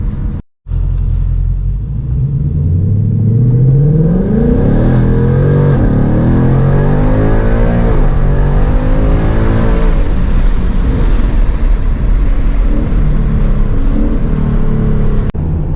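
A car fitted with a Corsa cold air intake and a 10-speed automatic accelerates hard from a standstill on street tires, engine roar climbing steadily through several gears, loud and close, sustained throughout with no talking.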